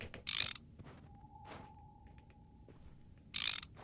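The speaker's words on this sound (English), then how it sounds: "There's a lot more bolts that need to be tightened this time." A ratchet tightens bolts on railway tracks in the horror game Barking from the Dark. Two short, loud, rapid clicking bursts are separated by a quieter stretch holding a faint mechanical hum.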